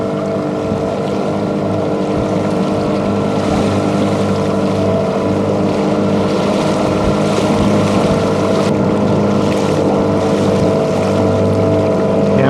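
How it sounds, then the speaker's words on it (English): A small sailing boat in Baja California runs under a 5 horsepower outboard motor, a steady unbroken drone close by with wind rushing against the microphone and no talk. "These boats move right along under the power of a 5 horsepower outboard motor."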